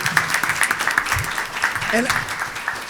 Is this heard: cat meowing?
no